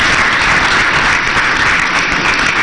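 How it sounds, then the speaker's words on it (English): Applause for His Excellency John Dramani Mahama at a media encounter, a loud, dense and steady burst of clapping from a large crowd, close and unbroken, with no talk over it. "another round of applause for His Excellency"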